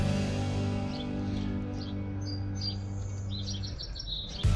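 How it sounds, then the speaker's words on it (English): Small birds chirping inside a greenhouse, scattered faint tweets over a steady low hum, fairly distant and quiet. "It's very peaceful in here, as you can hear the birds chirping."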